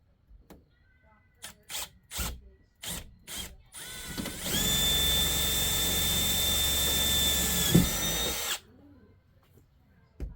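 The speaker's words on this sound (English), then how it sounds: "Trusty old drill with the drill bit." A power drill whirs steadily for about four seconds after several short knocks and taps, then cuts off abruptly; close and loud, with no talking.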